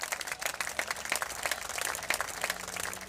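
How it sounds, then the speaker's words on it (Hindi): Crowd applause fills the hall as a guest is welcomed onto a stage, a steady wash of clapping throughout with a few sharper individual claps standing out. "एक बार जोरदार तालियों से आप नाजिम सर का, नाजिम जी का स्वागत करें।"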